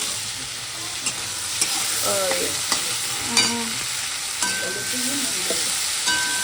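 Potatoes and helencha greens fry in a pan tempered with garlic and radhuni, giving a steady close sizzle broken by clinks and scrapes of a stirring spoon, with no talking.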